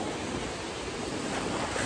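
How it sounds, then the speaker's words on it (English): Ocean waves breaking at the beach, a loud, continuous roar of surf and wash with no clear gaps, heard up close with no voices. "because you got waves everywhere, and apparently that's happens at the beach"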